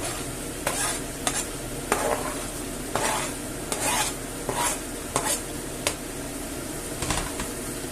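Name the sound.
onion frying and being stirred in a pan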